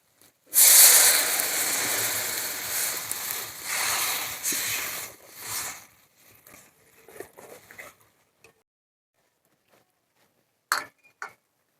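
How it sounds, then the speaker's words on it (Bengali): Water is poured into a pan of frying fish curry masala, setting off a loud burst of hissing sizzle that holds for several seconds, then fades into faint crackles and a few late pops. "এবার দিয়ে দেবো জল।"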